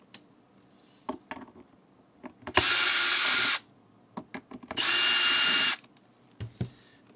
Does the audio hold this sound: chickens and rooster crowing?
no